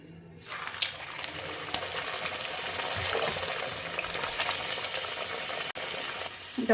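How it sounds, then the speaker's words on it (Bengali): Kachori deep frying in hot oil, a steady close bubbling sizzle with crackling bursts that runs throughout, no talking. "চলো এবার ফটাফট বাকিগুলো ভেজে নিই"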